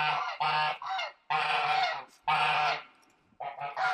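Geese on a smallholding honk loudly and nearby in a string of harsh, nasal calls, several bursts separated by brief pauses.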